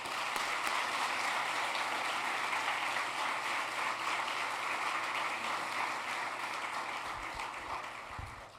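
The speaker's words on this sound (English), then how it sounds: "I think we should give her a round of applause." Sustained applause from a college crowd at a political event, steady dense clapping filling the whole stretch, tapering slightly near the end.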